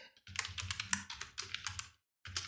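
Quick bursts of clicking keystrokes on a computer keyboard, close and crisp, with brief pauses between runs of typing and no voices.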